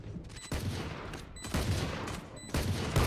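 Gunfire in the shooter game Valorant, rapid sustained bursts in three loud volleys separated by brief pauses, harsh and close.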